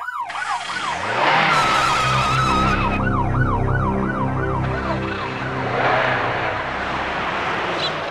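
An ambulance siren wails loudly nearby in a rising and falling cycle, with a vehicle rumble underneath. The pitch sweeps repeat steadily and the siren stays prominent with no speech through the whole stretch.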